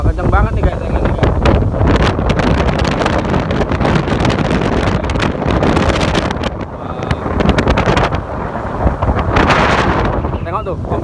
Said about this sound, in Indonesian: Wah, kencang banget nih guys anginnya guys.